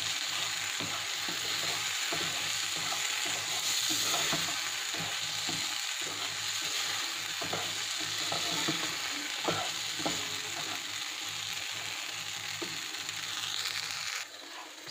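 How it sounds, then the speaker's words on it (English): Pasta tossed with Maggi masala powder is stirred in a hot pan. A continuous sizzle runs under repeated scraping strokes of the spoon against the pan for the whole stretch. "Maggi powder into this. And we have to mix this one."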